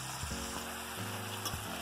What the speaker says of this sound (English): Why do I cook my frozen hamburger in the pan?